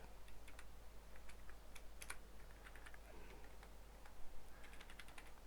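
Quiet, steady typing on a computer keyboard while writing program code, soft key clicks tapping continuously at a quick irregular pace with no talking over them.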